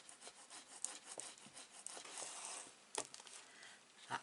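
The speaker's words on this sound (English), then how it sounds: "And burnish that right down." Paper being burnished flat onto a scrapbook album page, a close, soft rubbing and scraping with brief crinkly strokes and a few sharper scuffs, no voices.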